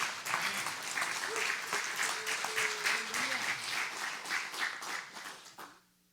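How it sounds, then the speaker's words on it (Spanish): Loud, sustained applause from a church congregation, a dense wash of many hands clapping steadily for about five seconds before fading out, with faint voices mixed in. "Dele palmas al Señor"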